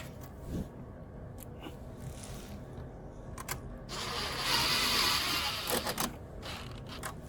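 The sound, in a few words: putting nuts on bolts of a generator air filter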